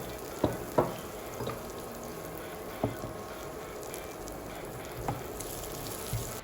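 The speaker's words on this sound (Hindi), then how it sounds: "ये जो बचा हुआ तेल है हम इसमें टॉस करेंगे कुछ स्लाइस्ड बेल पेपर्स" Sliced red and yellow bell peppers and capsicum fry in leftover oil, giving a soft, steady sizzle broken by a few sharp clicks and taps of stirring.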